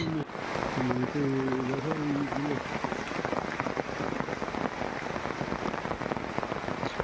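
Rain falls steadily through a green forest sanctuary in Arunachal Pradesh, a dense close patter on leaves and surfaces, with a brief tonal voice-like sound early on before the rain continues alone.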